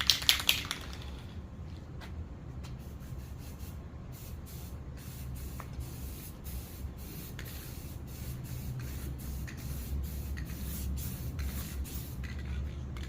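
Rust-Oleum gloss spray paint can spraying onto a CRX rear bumper support, a few short bursts at the start then a steady, fairly quiet hiss held nearly continuously to the end.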